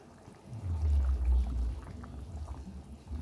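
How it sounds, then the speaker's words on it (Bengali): Fish pieces go into a pot of boiling fish curry with softened potatoes: a close, heavy low splash and slosh for about a second, then a steady quieter bubbling simmer. "দিয়ে দিলাম মাছগুলো"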